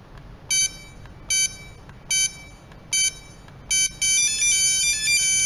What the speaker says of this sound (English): With 4 beeps, all user keys deleted